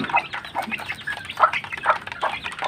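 Baby chicks chirp repeatedly in quick, high peeps near a mother hen, with overlapping calls continuing steadily throughout.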